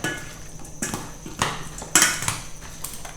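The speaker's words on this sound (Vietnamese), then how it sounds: "Và mình trộn đều lại ha." Fresh unsweetened milk is stirred into a chicken curry mixture, with several sharp clinks and scrapes of a utensil against the pot at irregular intervals over a low background.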